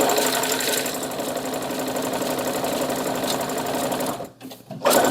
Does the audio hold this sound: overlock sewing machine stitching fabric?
yes